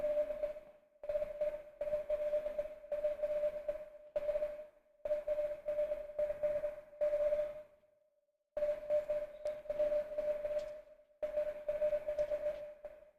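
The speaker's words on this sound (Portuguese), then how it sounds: "Ela foi, do jeito que veio em código Morse, nós fizemos uma melhoria" A telegraph key sends Morse code as a steady tone keyed on and off in long and short pulses, with clear pauses between groups, loud and close with no voices.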